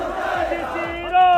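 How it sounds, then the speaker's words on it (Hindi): A protest crowd at a Karni Sena rally in Jaipur chants slogans, with voices rising together in a loud, rhythmic call. The chant swells louder near the end. "यूजीसी रोल बैक के नारे लगे"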